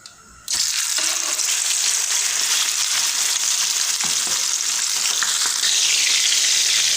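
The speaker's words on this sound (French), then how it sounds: "À présent que mon huile est bien chaude, je vais procéder à la friture." Loud, steady sizzling and crackling of sole frying in hot oil, starting abruptly and continuing without pause, close up and dense.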